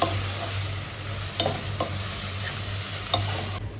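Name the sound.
stirring chicken masala and pepper powder in a pan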